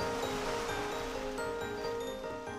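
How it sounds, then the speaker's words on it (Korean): Rough sea surf breaks along a coast where women divers work, a dense continuous wash of churning water with no pause, loud and close throughout. "아침엔 잔잔했던 파도가 갑자기 거세지면서 해녀들의 손놀림이 바빠집니다."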